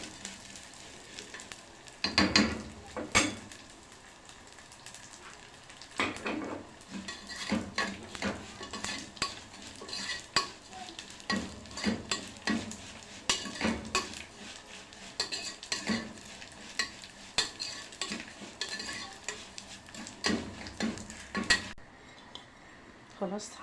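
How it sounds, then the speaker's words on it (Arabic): Vermicelli is stirred as it fries in a pot before rice and water go in, with repeated sharp clinks and scrapes of a utensil over a soft background sizzle, the stirring bursts irregular and close. "خلاص حمرت الشعرية ونزلت عليها الرز وحطيت عليها المية ورشيت عليه شوية ملح"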